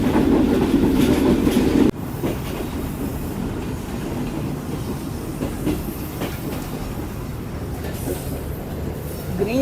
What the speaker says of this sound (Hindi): green line 6 down approaching Ladi junction